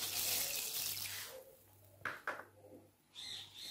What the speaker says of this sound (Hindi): अब मैंने एक पतीली ली है और इसके अंदर मैं पानी ऐड करती हूँ, आधा गिलास पानी